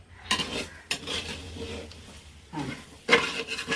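Coconut chutney (idi chammanthy) is stirred in a pan, with uneven scraping strokes and sharp metal clinks of the utensil against the pan, close and fairly quiet, without any talk.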